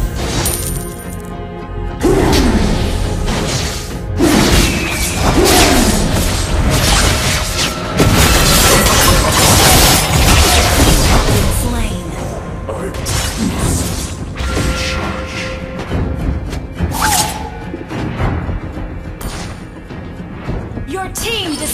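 Battle effects from a Mobile Legends match as a turret is destroyed: loud, dense crashes, booms and mechanical clatter running almost continuously, with sharper impacts and a game announcer voice in the mix.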